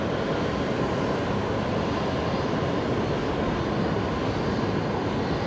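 Broad, steady roar of an arriving airliner at Brisbane Airport, loud and continuous with no talk over it.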